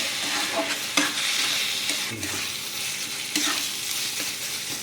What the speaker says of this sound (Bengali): পনিরটাকে গ্রেট করে দিয়ে দিয়েছি এবার মশলার সাথে ভালো করে আমি মিক্স করে দেবো